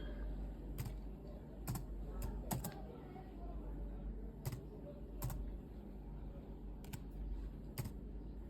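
Someone types a Wi-Fi network name on a computer keyboard, producing sparse, faint clicks in small bursts and single taps over a quiet room hum, with a voice speaking softly in the background.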